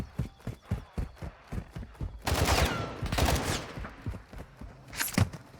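Gunfire in the video game Warzone 2.0 DMZ crackles in a dense burst of rapid shots after scattered thuds, followed by a last sharp volley, mid-distance and moderately loud with no speech.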